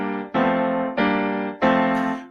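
Four sustained block chords on piano, each struck cleanly and left to ring for roughly half a second before the next, with no talking over them.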